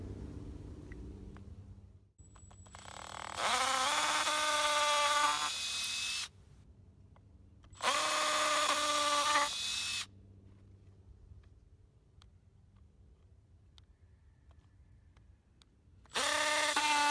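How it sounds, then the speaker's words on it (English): A power drill pre-drills holes in wooden pallet pieces for a BMX kicker ramp, giving three loud, close whirring bursts of a few seconds each with a rising pitch, separated by quiet stretches of low room rumble. "I'm gonna pre-drill some holes that way that these pieces don't crack when I put a screw through them."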